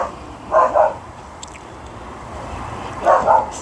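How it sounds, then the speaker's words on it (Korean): A dog barks in two short bursts of a couple of yips each, a few seconds apart, somewhat distant over a quiet background. "저 멍멍이 왜 저래 짖을까?"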